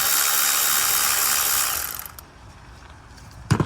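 A ratchet clicks while bolts are removed from the turbo actuator of a 2019 Audi A1, working outdoors on a wet day. A rapid, close mechanical whirr fades into quieter scattered clicks, then a sharp ratcheting burst near the end.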